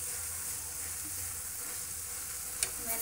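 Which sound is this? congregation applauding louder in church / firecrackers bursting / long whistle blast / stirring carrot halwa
stirring carrot halwa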